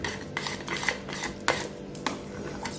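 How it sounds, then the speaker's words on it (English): A spoon stirs plantain porridge in a pot with quick, close scraping and tapping strokes, a few louder knocks standing out in a steady rhythm. "So I'm stirring it now."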